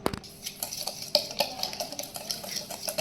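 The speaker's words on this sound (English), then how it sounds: "Mix these ingredients without forming lumps." A spoon briskly stirs a dry mixture of cocoa, sugar, cornstarch and salt in a pot for Italian hot chocolate, rapid rhythmic scraping with light metallic clinks, close and with no voices.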